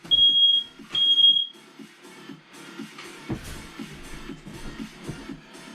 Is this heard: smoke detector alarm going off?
yes